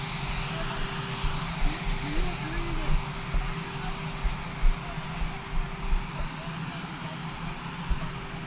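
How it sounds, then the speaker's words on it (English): A loud, steady engine drone with rhythmic pulsing from a nearby helicopter, with faint voices underneath. "You have to talk up. We have a helicopter."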